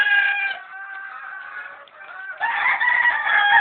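A rooster crows loudly and close, followed by a second, stronger crow, with chickens clucking faintly around it.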